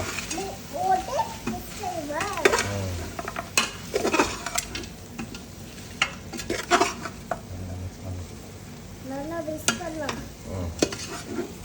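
Goat leg curry stirred in a pot, with repeated scraping and clattering of a spoon against metal over a soft sizzle, while people talk throughout.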